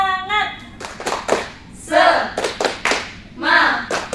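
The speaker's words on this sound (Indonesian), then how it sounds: "Tepuk semangat." A classroom of students does a rhythmic spirit clap, sharp group claps in short patterned bursts, close and loud, alternating with the group chanting.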